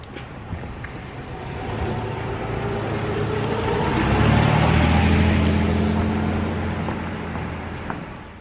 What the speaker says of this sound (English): this car or truck that's driving on the sidewalk is still following me around